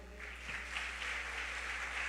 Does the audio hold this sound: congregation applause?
yes